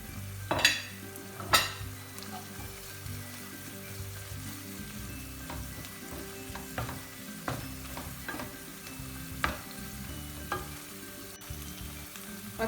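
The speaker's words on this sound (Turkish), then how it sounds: "Sarımsağımızı da ilave edelim. İyi ki de onunla çevirelim mantarlarımızı." Oyster mushrooms and garlic stir-fry in a pan with a soft, steady sizzle, broken by a few sharp clatters near the start and light scraping knocks as they are turned.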